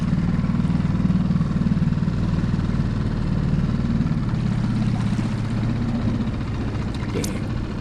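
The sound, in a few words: skiff outboard motor idling while trolling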